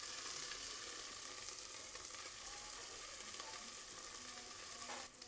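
Onions with ginger sweat and fry quietly in a pan, a faint, even sizzle with soft occasional stirring scrapes and no talking.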